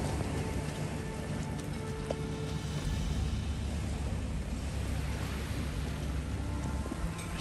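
Rain falling at Railay Beach in Krabi, a steady broadband hiss of drops on surfaces with no let-up, moderately quiet and continuous, with no voices.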